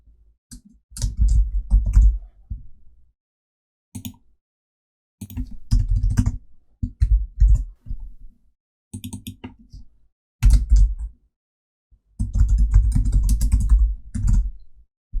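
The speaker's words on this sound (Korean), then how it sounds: "티독으로 타이핑 하겠습니다." Fingers type on a computer keyboard in several short bursts of rapid, close clicking, separated by brief silent pauses.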